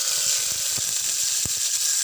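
Chopped onion sizzling in hot oil in a pan for a Tamil radish and dried fish thokku, a loud, steady, close hiss with faint stirring knocks underneath.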